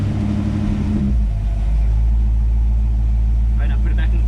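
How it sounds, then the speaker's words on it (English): A 1965 Ford Fairlane 500 engine idles steadily after a fuel sending unit repair, a low, even rumble close by that settles after a brief shift, with faint voices near the end. "She's idling. She is idling."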